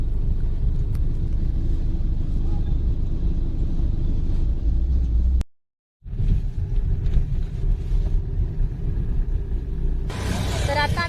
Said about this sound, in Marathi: ट्रॉपिक थोडंसं लागलेलं आहे म्हणजे पुढं ना भाजी मार्केट आहे त्यामुळे थोड्याशा गाड्या आहेत